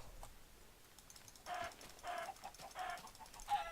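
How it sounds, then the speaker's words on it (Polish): Minecraft chickens cluck in a snowy game world, four short clipped bursts at a steady rhythm over a quiet background. "Kurczak."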